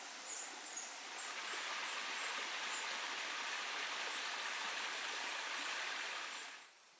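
A mountain stream rushes at the headwaters of the Mukabaki River on Mount Mukabaki, Miyazaki, a steady broadband wash of flowing water with faint birdsong above it, easing slightly at the very end.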